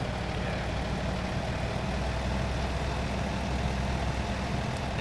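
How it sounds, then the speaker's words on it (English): A Volvo VNL truck engine idles steadily in American Truck Simulator, a constant low diesel rumble that holds even and close throughout with no talking. "So this is a Volvo engine,"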